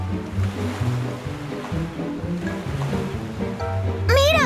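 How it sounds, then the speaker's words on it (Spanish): Rough ocean waves in an animated cartoon churn and surge steadily, with dense watery rumbling throughout and a sharp whooshing effect near the end. "¡Por eso las olas son tan violentas!"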